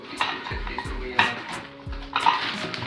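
Metal utensils knock and clatter as a Prestige pressure cooker is handled from a kitchen utensil kit box: a few sharp, close clanks with quieter rattling in between.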